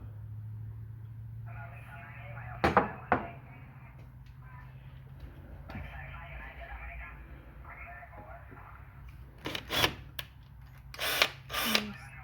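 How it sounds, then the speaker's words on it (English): A power drill drills a 1/2 inch hole while building a dual band stub j-pole antenna, with short bursts of motor whine starting and stopping, and a few sharp clatters near the end over a low hum. "So you're going to have to drill a 1/2 inch hole."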